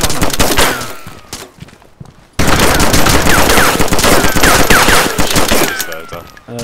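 Gunfire emptying a magazine in DayZ, loud rapid automatic shots in two bursts separated by a short quiet gap, the second burst long and sustained with metallic ringing tails.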